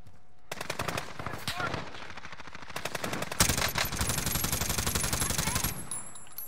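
Rapid automatic gunfire from the video game Warzone rattles in long, loud, close bursts, with a brief pause before a sustained volley that runs for several seconds.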